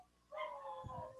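Dogs making noise in the background during a lab class, heard as a sustained, wavering whine or howl starting abruptly and held for about a second, with a few low muffled thumps near the end.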